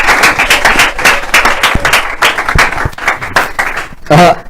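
A studio audience at a live French Christian television broadcast claps and cheers to welcome an evangelist, loud dense applause in rapid pulses that carries on throughout, with a voice briefly rising at the very end.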